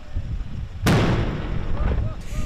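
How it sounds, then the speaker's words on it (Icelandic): A ceremonial cannon fires once at a harbour to welcome an arriving ship, a single sharp, loud boom that decays into a rumbling echo over the murmur of a waiting crowd on the quay. "Skotið úr fallbissu og fjöldi gesta á bryggjunni til að fagna komu skipsins."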